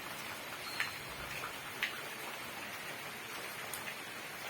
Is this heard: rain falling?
yes